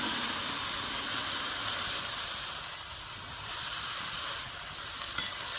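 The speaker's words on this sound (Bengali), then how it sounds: "দেখুন আমি সব শাকগুলো দিয়ে দিয়েছি কড়াইয়ে। এবারে আমি ভালো করে নেড়ে নেবো।" Teora greens stir-frying in a hot kadai, giving a steady, close sizzling hiss with faint scraping from stirring, running evenly throughout without any voices.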